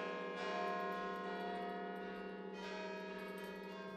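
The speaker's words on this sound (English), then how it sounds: "when did you hear about this and decide to ring your bells for the Armistice?" Church bells at a New Jersey church ring for the Armistice in a World War I observance, sustained ringing tones with a fresh strike near the start and another partway through, loud and unaccompanied by talk.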